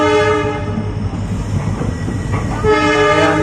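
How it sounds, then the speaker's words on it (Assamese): A passenger train pulls out of Rangiya Junction. A rolling rumble plays under horn blasts at the start and again near the end. "ফাইনেলি আমাৰ ট্ৰেইনখন চলিবলৈ ধৰিলে"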